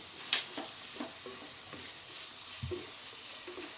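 Bottle gourd and tomato curry is stirred in a pan with a soft continuous sizzle and scattered scraping and clinking strokes, one sharp utensil tap near the start.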